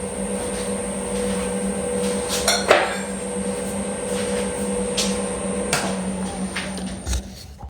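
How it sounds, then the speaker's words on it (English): Roughing gouge cutting a spinning root burl on a wood lathe at about 450 RPM, a steady humming whir with tonal motor drone and occasional sharp knocks and catches as the tool bites the uneven wood. "so I just chose to use my roughing gouge"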